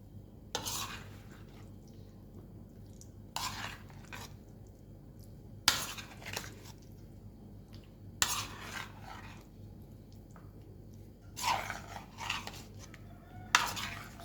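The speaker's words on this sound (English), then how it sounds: "now I'm going to stir" Potato salad stirred gently in a bowl, spoon scraping the sides in six separate bursts spaced a couple of seconds apart, close and fairly quiet against a soft background hum.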